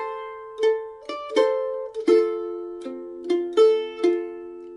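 A mandolin plays the Silent Night melody with double stops, each plucked chord ringing clearly and fading before the next in a slow, steady rhythm, close and alone with no talking.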